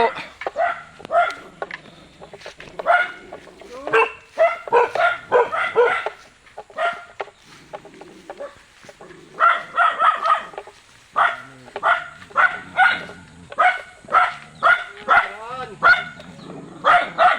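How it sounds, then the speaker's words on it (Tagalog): Repeated dog barks and yips in rapid bursts, several dogs close by, with some voices talking in between. "mapapadaan naman tayo sa habulan ng aso"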